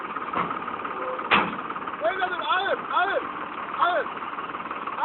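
A motor vehicle engine runs steadily through a potato harvest in the fields of Ovacık, Niğde, a constant rumbling drone under loud shouting voices.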